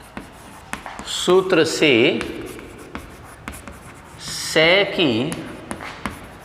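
Pen or chalk scratches out handwriting during a Sanskrit grammar lesson, with short strokes and taps running beneath a man's steady explanatory speech.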